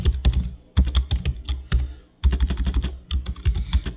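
Continuous typing on a computer keyboard in bursts of rapid, close key clicks with brief pauses between runs, during programming work.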